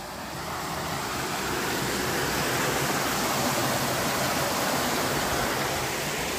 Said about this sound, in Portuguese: Pelo barulho, acho que dá para vocês ouvir aí a vazão de água que está descendo do bueiro aqui